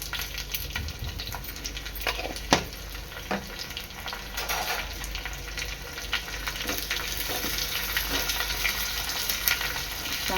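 Finely chopped garlic and asafoetida frying in hot oil with a steady sizzle, brief stirring clatters and an occasional sharp pop, close up.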